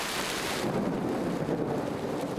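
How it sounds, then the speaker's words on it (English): Heavy rain pours steadily in a severe black-warning rainstorm in Hong Kong, with a deep thunder rumble fading into dense, close rainfall hiss. "It began with intense thunderstorms and strong winds overnight"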